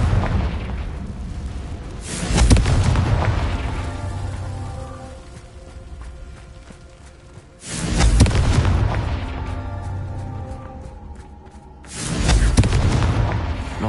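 Confringo fire-spell blasts in Hogwarts Legacy: three heavy booming explosions spaced several seconds apart, each a loud sudden burst trailing into a crackling, rain-like fizzle.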